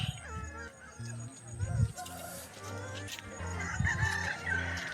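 Roosters and hens cluck and call near and far in a busy poultry market at Balarampur, with voices chattering in the background and short crowing bursts rising over the din.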